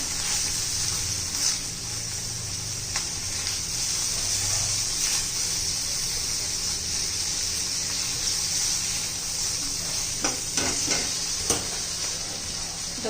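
Salted green chilies frying in oil in a pan and being stirred: a steady soft sizzle with occasional scraping and clinking of the spoon against the pan, fairly quiet with no talking.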